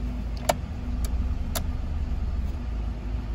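A 2003 Toyota Matrix XRS with a rebuilt cylinder head and over 209,000 miles idling, a steady low engine hum close by, with a few faint clicks on top.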